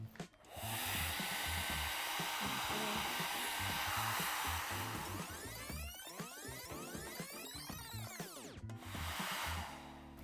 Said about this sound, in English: We're going to give him a quick blow dry.